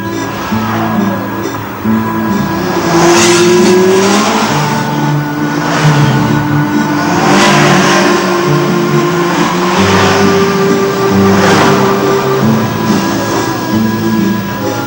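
Several cars rev their engines and pass by one after another, loud and close, with the engine pitch rising and falling across each pass and no voices over them.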